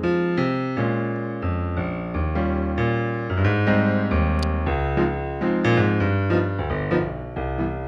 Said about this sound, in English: now if I revert back to kind of more of a more interesting two-feel bassline, it might sound like this.